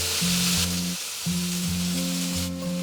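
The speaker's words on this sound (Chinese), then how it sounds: "接着喷入多一点的料酒去腥，再加入多一点的酱油" Cooking wine and soy sauce hit a hot pot with a loud, continuous sizzle. A low, steady tonal hum runs underneath, and no one speaks.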